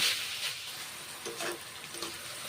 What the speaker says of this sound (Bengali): একটুখানি জল দিয়েছি জল দিয়ে